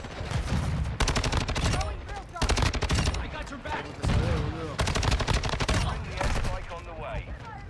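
STB 556 rifle fire in Modern Warfare 2, loud rapid automatic bursts repeating in several strings over about eight seconds with game effects and a voice mixed underneath.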